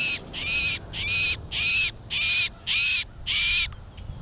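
Starlings caught in a mist net give harsh, loud, distressed-sounding calls, about seven rasping squawks in a steady rhythm close by. There is no talking.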